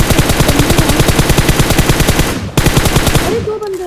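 Automatic weapon fire in the mobile battle royale game PUBG Mobile, a loud, dense stream of rapid shots that breaks off once briefly and then resumes, with a voice heard faintly at the end.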